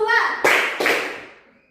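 A classroom of children claps together on a spoken count, with two sharp group claps landing close and loud, the second fading into a short ringing tail, and a voice heard briefly before the first.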